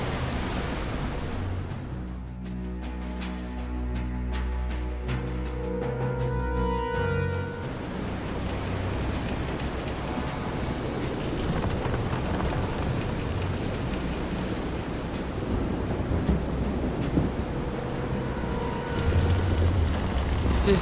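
A heavy storm at sea in Visions of Mana, with steady loud rain hiss and the rolling wash of waves around a pitching boat. A musical tone rings over the first few seconds, then the broadband downpour and surf continue unbroken throughout.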